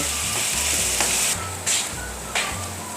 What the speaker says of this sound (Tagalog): And then, isimmer lang natin ito until ma-absorb ng meat yung liquid.